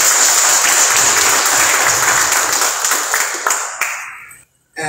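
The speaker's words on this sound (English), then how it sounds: "Give a round of applause to Wai'anae Town." An audience applauds at a town hall meeting in Wai'anae. Loud, dense clapping fills the room, then thins out and fades to silence near the end.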